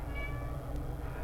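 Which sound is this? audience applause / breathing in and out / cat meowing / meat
cat meowing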